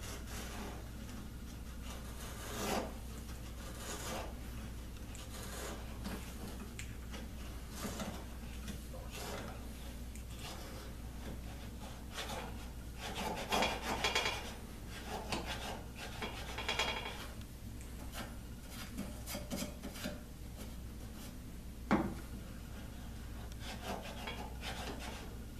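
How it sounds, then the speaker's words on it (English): Hand plane shaving wood while cutting a corner for a dart board cabinet: quiet, repeated rasping strokes, taken a little at a time, with a faint steady hum underneath and no talking. "I'm just coming along and just chiseling out a little bit at a time here."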